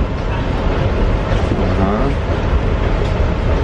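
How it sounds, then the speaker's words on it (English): A train runs on rails, heard from inside the carriage as a loud, steady rumbling roar with a faint voice murmuring beneath it. "We're on a train right now"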